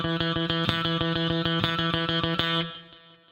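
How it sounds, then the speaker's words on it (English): A distorted electric guitar plays one measure of rapid sixteenth-note triplets, six even picked notes per beat in a steady stream that rings out and fades at the end, with no voice over it. "So here's one measure of 16th note triplets."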